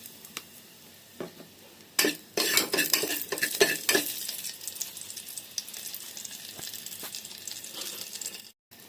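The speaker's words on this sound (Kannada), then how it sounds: "ಸ್ವಲ್ಪ ಸಾಸಿವೆ, ಬೆಳ್ಳುಳ್ಳಿ, ಕರಿಬೇವಿನ ಸೊಪ್ಪು, ಎಣ್ಣೆ ಹಾಕ್ಕೊಂಡಿದ್ದೀನಿ." Mustard seeds, garlic and curry leaves frying in hot oil for a village-style onion sambar, a sharp crackling sizzle that flares suddenly and then settles into a steady hiss, with metal stirring and pan clatter throughout.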